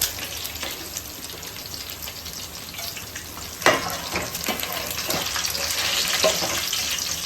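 Food crackles and sizzles steadily in hot oil, frying like pakoras for biryani, with occasional sharper pops and the scrape of stirring throughout.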